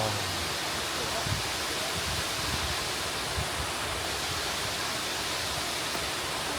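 Continuous roar of a waterfall in Mount Rainier National Park, a dense hiss of falling water heard up close and loud, unbroken for the whole stretch.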